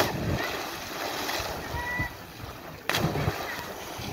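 Cannonball jumps into an outdoor swimming pool, an abrupt loud splash cutting through splashing water and the chatter of young men nearby, with other splashes and voices before it.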